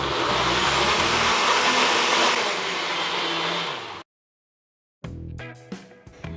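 A kitchen blender purees mango pulp with sugar at loud, steady full power for about four seconds. It cuts off into silence, then rattling and clattering handling sounds follow.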